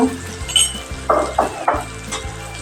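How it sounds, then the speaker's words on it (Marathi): Spices and tomato sauté in a pan for dal palak, with a soft sizzle under a few distinct metallic clinks and scrapes as a spoon stirs against the pan, close and fairly loud. "हे मसाले आपण परतून घेऊया"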